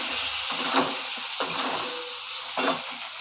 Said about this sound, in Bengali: হলুদ দিলাম দিয়ে আবার একটু নাড়াচাড়া করলাম